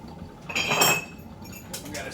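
Light metallic clinking and jingling from the spring chain of a Silex coffee siphon in a few short bursts, close by, with faint background noise.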